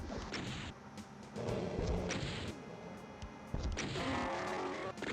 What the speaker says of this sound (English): we kind of want to use our rocket launcher to take them out